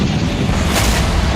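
Loud, continuous rumbling blast from a drone strike on a Russian landing ship in Crimea, a heavy low roar sustained throughout with no talk.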